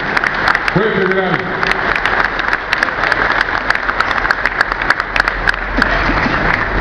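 Audience at a police ceremony gives a round of applause, continuous crowd clapping with sharp individual claps standing out and a brief voice heard over it early on.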